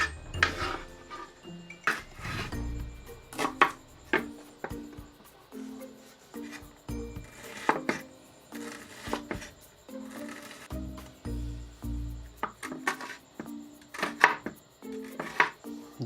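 A knife chopping onion on a board at home, with close, crisp, irregular strikes in quick bursts and short pauses between them over about sixteen seconds, with light clatter and scraping in between.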